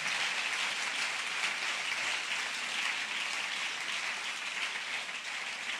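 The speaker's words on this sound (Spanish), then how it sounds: "Dele un aplauso bien sentido a la gloria de Dios." Church congregation applauding in praise during a sermon, a dense, steady wash of many hands clapping at full loudness for the whole stretch, with no voices standing out.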